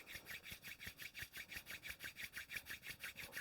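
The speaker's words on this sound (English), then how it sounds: "As you inhale, come to rise, rubbing the palms together" Palms rubbing briskly together during a morning yoga and breathing practice, a soft rhythmic swishing that repeats steadily about five times a second, quiet and close with no talk.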